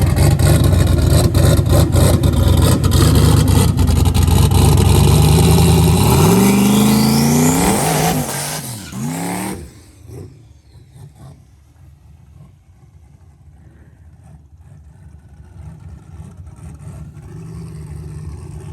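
A turbocharged Ford Mustang with a 6-liter engine, rod and piston setup, launches hard at a drag strip, its engine roaring loud and close as revs climb through several gear shifts before the sound drops away and fades into distant background noise.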